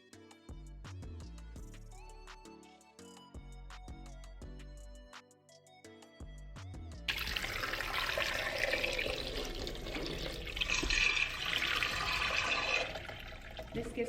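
Tap water running and splashing into a cooking pan holding eggs, set to boil for Scotch eggs; a steady, fairly loud rushing pour follows a short stretch of quiet background music.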